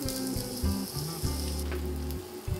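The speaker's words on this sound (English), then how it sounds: "In a hot pan, add some vegetable oil and start with adding an onion" Onion fries in hot vegetable oil in a pan for shakshuka, giving a close, steady sizzle that stays loud throughout, with some low background hum and no talking.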